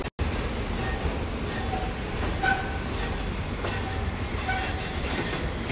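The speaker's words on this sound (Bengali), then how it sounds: "এই ট্রেনটা আবার ব্যাক চলে যাচ্ছে।" Malaysian MRT train rolling through a station, a steady broadband rumble and hiss of wheels and motors that holds at an even, fairly loud level throughout with faint squeals, no talking.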